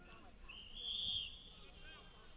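A referee's whistle at a hockey game sounds once as a single short, faint, high blast in the distance, under arena crowd noise.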